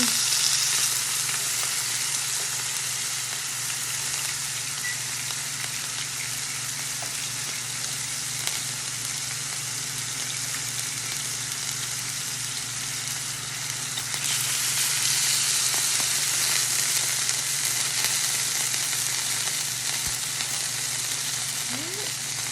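Guinness burgers fry in a pan with a continuous dense sizzle and crackle, steady and close throughout, briefly growing louder partway through, with no talking over it.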